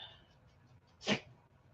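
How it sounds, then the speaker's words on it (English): A puppy with allergies lets out a single sharp sneeze-snort, close and fairly loud, after a stretch of faint background murmur. "He'll go outside and come in and just sneeze his little head off."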